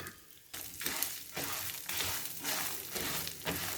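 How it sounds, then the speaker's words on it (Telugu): Ginger pieces and dried red chillies fry in hot oil over low heat for a chutney, giving a close, continuous sizzle that swells in pulses as they are stirred. "అలాగే అల్లం ముక్కలు కూడా వేసుకొని వేయించుకోండి."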